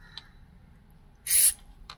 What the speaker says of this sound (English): we're going to spray directly inside the holes over here